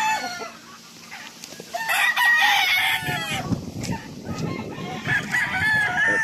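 A Kanawayon rooster crows loudly nearby, giving several rising cock-a-doodle-doo calls in quick succession, with other fowl clucking and scratching in the background.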